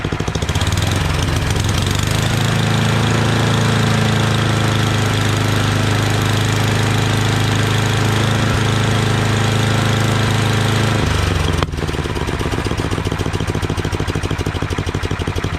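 Engine of a Yardman 8.5 horsepower 26-inch dual-stage snowblower, running loud and steady at idle, then throttled up with a sharp change in pitch near the end.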